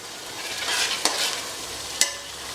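Onions brown in a pan for chicken curry, giving a steady close hiss of frying with two sharp clicks of a utensil against the pan.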